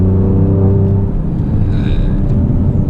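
An Alfa Romeo 4C engine pulls in third gear with heavy turbo lag, giving a loud, steady low rumble whose pitch climbs slowly as the car accelerates, with no talking over it.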